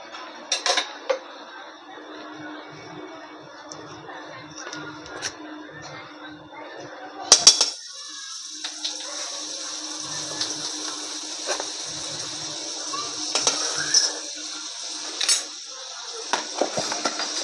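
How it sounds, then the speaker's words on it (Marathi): Paneer frying in butter in a pan: metal utensil clinks and scrapes for the first few seconds, then a steady sizzling hiss after a sharp clatter, with occasional pan knocks and no talking. "याच्यामध्ये पनीर तळून घेऊया आपण छानसं."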